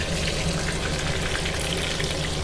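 Soup bubbles in a pot on the stove, giving a steady close wash of boiling and sizzling noise with no speech.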